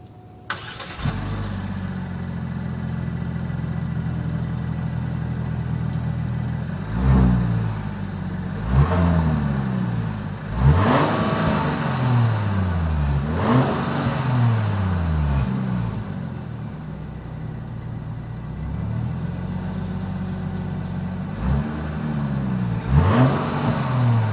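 Genesis GV70 Sport in Sport Plus mode, its exhaust idling and then blipped through a series of sharp revs that rise and fall back to idle, loud and close with no talk.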